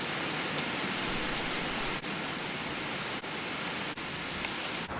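Steady rain falling and pattering on a surface, a continuous broadband hiss with a few faint thuds and clicks, fairly close and moderate in level, no voices.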